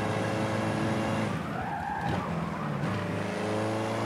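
A race car in the Forza 7 video game braking hard into a corner, tires squealing and skidding briefly over the steady engine drone, no talking.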